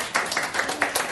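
Brief scattered clapping from an audience at a coaching course as a guest doctor is introduced, a handful of distinct claps in quick succession at moderate level.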